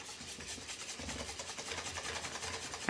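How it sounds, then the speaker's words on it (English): A whisk beats gluten-free crumpet batter in a bowl, making quick, steady scraping strokes. The sound is close but faint and carries on continuously without speech. "I'm going to whisk this for about 2 minutes."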